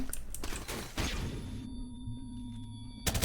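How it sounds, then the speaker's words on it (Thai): A flashbang grenade detonates in Call of Duty: Modern Warfare Remastered, a sharp burst followed by a sustained high ringing tone over a dulled low rumble, before another loud burst cuts in at the end. "ระเบิดแสง"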